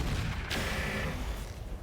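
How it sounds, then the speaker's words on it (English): A mech's flat cannon fires once in the RogueTech battle game, a sharp loud boom at the half-second mark over a dense rumbling game soundscape. "We're going to fire on that Lindworm. Very, very decent hit odds with that flat cannon"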